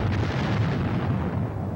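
An artillery explosion sounds as a deep, heavy rumble that stays loud and steady throughout the short stretch, with no voices.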